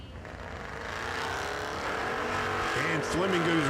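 A red pickup and a Camaro launch side by side in a bracket drag race, the engines building into a loud sustained roar with rising revs near the end while an announcer talks over it.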